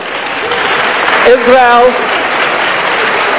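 Steady applause from a Doha Debates audience fills the background while a voice speaks over it, briefly rising in pitch midway.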